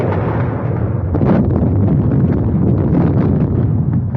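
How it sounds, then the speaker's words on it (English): Artillery barrage in a 1930 war film: a continuous, loud, muffled rumble of explosions blending into a dense roar, with no talking over it. "Somebody will have to crawl through that barrage."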